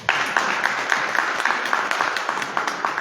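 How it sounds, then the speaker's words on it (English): An audience at a community political candidate forum claps steadily, a continuous wash of applause with a faint voice or two underneath. "Give yourself a round of applause."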